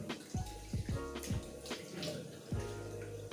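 Water running from a tap while rinsing after a shave in a bathroom, a steady close splash broken by several sharp hand splashes and drips.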